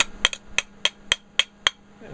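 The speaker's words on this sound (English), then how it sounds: "the backside of a wrench takes it right off" Seven sharp metallic knocks at a steady, even pace, the back of a wrench striking welding slag off steel up close, with short ringing decay after each hit.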